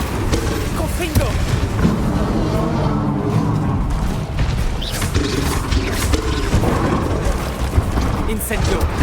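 Confringo and Bombarda blasting spells cast in the Hogwarts Legacy video game, heard as a dense run of booms, crashes and thuds under constant loud game noise, with a voice talking over the action.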